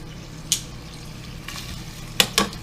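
Big, thick chicken thighs flipped in an air fryer basket give a few brief clattering scrapes, one near the start and a close pair near the end, over a steady low fan hum.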